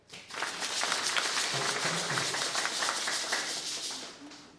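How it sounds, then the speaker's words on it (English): An outdoor crowd at a community gathering in Kolahun claps together in a sustained burst of applause, steady and dense for several seconds before tapering off at the end. "I want you to clap for yourself"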